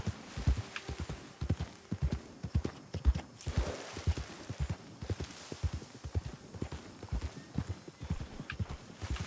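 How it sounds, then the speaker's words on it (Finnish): Horse hooves clip-clop in a steady, quick rhythm in the Red Dead Redemption 2 game, moderately close and continuous, with a faint whinny partway through. "Tämä on kyllä hevonen."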